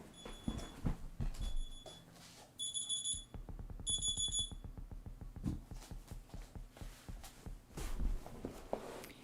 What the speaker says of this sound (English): my alarm clock, I need to shut it